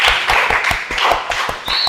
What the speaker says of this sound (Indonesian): Tepuk tangan ya buat Yohan